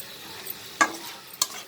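Minced chicken keema with potato being stirred and fried in a pan, a quiet steady sizzle with two sharp spoon scrapes against the metal, close up.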